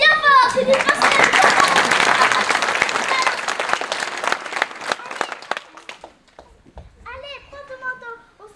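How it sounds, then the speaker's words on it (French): A theatre audience claps loudly at the end of a performance, a sustained round of applause that tapers off, with a voice before and children's chatter after. "On l'applaudit bien fort"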